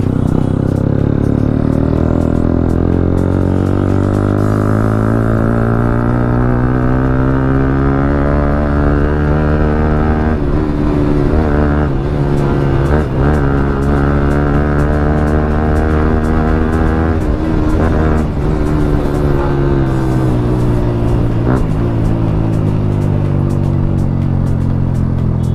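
Yamaha R15 motorcycles overtaking on Patna's Marine Drive road give a loud, steady engine drone whose pitch rises and falls continuously, with no gaps.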